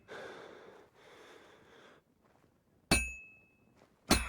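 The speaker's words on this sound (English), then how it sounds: "I have to hammer it more evenly." Two sharp metallic hammer strikes ring out at a blacksmith's forge in Kingdom Come: Deliverance II, each hitting hard and decaying with a bright ring, after a stretch of heavy breathing and quiet shuffling.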